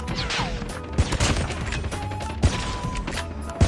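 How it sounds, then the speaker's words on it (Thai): Gunfire from a Call of Duty Mobile match thumps out as a few sharp, heavy shots spaced about a second apart over a busy game background, close and punchy. "เสียงยิงแบบ ตุ๊บตุ๊บตุ๊บตุ๊บตุ๊บตุ๊บ"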